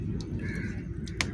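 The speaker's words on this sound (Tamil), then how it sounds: "ஸோ காக்கா குஞ்சு ரொம்ப தாகத்தில் இருந்தார்." A thirsty crow chick gives a short, faint caw over a low rumbling background, with a few brief higher calls scattered through the moment.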